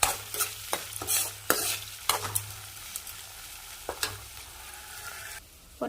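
Idli upma being stirred in a pan, with a spoon scraping and clattering in repeated strokes up close, some strokes sharp and others softer over a low frying hiss.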